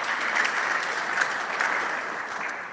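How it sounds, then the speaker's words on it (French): Church congregation applauding themselves during a Mass for Saint Joseph the Worker, a steady dense wash of clapping that fills the space at even loudness throughout, with no voices over it. "Applaudissez pour vous-même."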